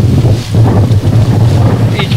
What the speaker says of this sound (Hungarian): így fúj a szél.